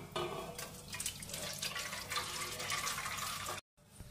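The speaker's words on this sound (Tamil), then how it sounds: "இந்த ஜீராவை நம்ம ஒரு அகலமான பாத்திரத்துக்கு மாத்திக்கலாம்." Hot sugar syrup for maida gulab jamun is poured into a wide vessel, a close, steady splashing trickle of liquid that runs for several seconds before stopping abruptly, followed by a faint tail of noise.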